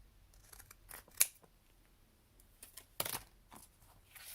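Scissors snip through glue-book paper while a folio is trimmed, a few quiet cuts scattered among soft handling noises, with one sharp snip and a louder cluster of cutting near the end.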